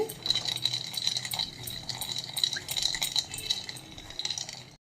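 Sugar being stirred into milk to dissolve it for a sweet bread snack, with a steady scraping, clinking stir of a spoon against a pot, repeated rhythmically and fairly close, with no talking.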